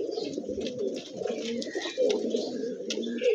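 Pigeons coo steadily in a loft, a dense low murmuring of overlapping calls from several birds close by, with faint higher chirps and small rustles over the top.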